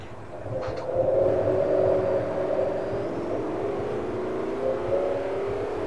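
A truck in the racing game Forza Horizon accelerates toward top speed, its engine droning in a steady rising tone over a low rumble, loud and unbroken.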